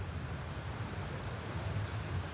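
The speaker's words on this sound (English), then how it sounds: "The real problem here is this rain." Rain falls steadily in a video game scene, a dense, even hiss of downpour at moderate volume with no voices over it.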